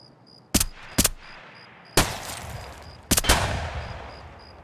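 Gunshots in the video game Escape From Tarkov at night, a few loud, sharp single shots and a quick double shot spaced apart, each trailing into a rolling echo over faint background ambience.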